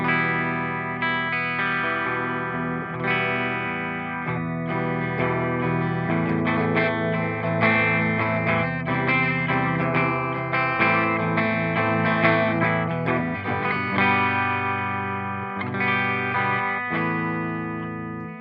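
Electric guitar through the clean channel of an ENGL Artist Edition 100 amp, a steady run of clear picked notes and chords at moderate loudness, heard alone without talk.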